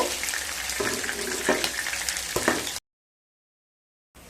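Katla fish pieces frying in mustard oil, a steady close crackling sizzle with a few louder spits and clatters, cutting off abruptly partway through to near silence.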